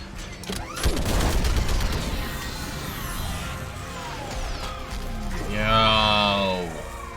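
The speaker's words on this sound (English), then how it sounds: "I need an orbital strike. We're clear. Fire at will." Orbital strike firing in Mass Effect 3, heavy booming blasts and rumbling impacts with sweeping whooshes, followed by a rising whining charge-up, loud and near, with a voice talking over parts of it.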